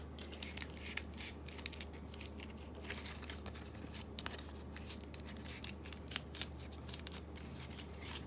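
Collard green leaves being stripped from their stems by hand in a kitchen, a steady run of close, crisp tearing and crinkling snaps with irregular rhythm and no voices.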